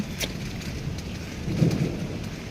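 Steady heavy rain hisses throughout, with a low rumble of thunder swelling briefly partway through.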